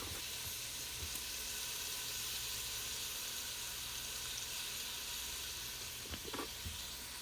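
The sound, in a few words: meat searing in plant-based butter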